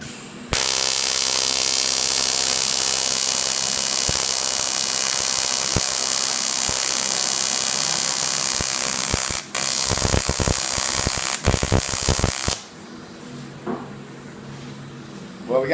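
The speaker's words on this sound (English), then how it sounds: "let's see if we can get a tack on it now" A TIG welder tacking metal with too little heat produces a steady, loud electrical buzz and hiss. The buzz runs continuously for about twelve seconds, broken near the end by a few sharp crackling bursts, then cuts off to a quiet room.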